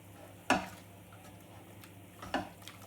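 Milk is stirred into thick dough in a pan for a vegetarian Greek shepherd's pie. Two distinct, close scraping thumps of the spoon sound over a faint, steady sizzle, quiet and without talk.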